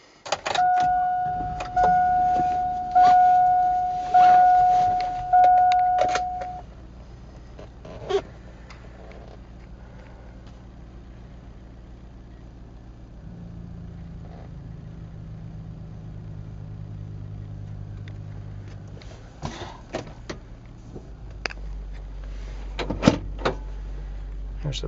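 A 2001 Chevrolet Tahoe LT: a steady warning chime sounds first, then the engine turns over and settles into a low, even idle rumble, with a few faint clicks and cabin sounds around it.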